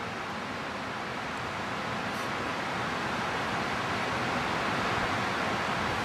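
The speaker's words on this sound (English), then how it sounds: "I think you can hear the brook if you listen carefully enough" A brook flows above Cascade Falls along the Weathersfield Trail, making a steady, even rush of water that fills the whole stretch without any pause.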